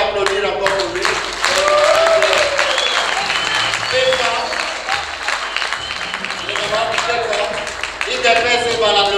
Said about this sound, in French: Si on peut applaudir encore pour lui.